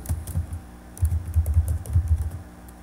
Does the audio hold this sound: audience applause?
no